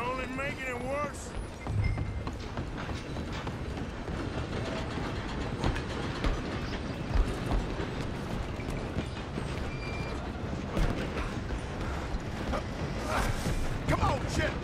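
A train in Red Dead Redemption 2 rumbles and clatters along the rails in a steady, loud roar, while people shout over it.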